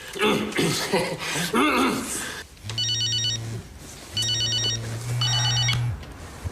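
An old-style telephone bell rings in short repeated bursts after a stretch of talking and a chuckle, loud and close, the rings separated by brief pauses.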